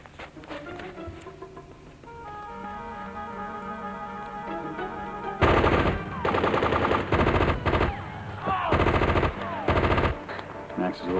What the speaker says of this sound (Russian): Ты смотри, Макс, как любит стрелять.